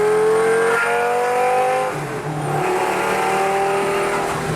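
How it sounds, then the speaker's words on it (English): A Lamborghini Gallardo V10 revs at about quarter throttle, a loud, close, high-pitched engine note that climbs, dips briefly near the middle, then holds steady and sings alone with no talk. "this is like a quarter throttle and it's just singing. One of the best V10, LFA, Carrera GT, and this. Best sounding V10s out there."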